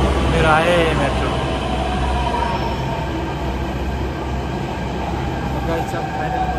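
A metro train pulls into a station with a steady rumbling roll, a squeal of wheels and rising hiss, while voices murmur faintly nearby.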